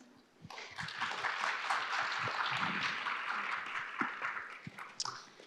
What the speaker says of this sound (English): A round of applause for this wonderful panelists.